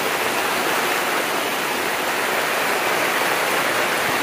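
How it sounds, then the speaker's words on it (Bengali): Heavy wind-driven rain pours down over a pigeon farm, a dense, loud, unbroken hiss of water with no pauses and no voices. "কি পরিমাণ বৃষ্টিটা হচ্ছে,"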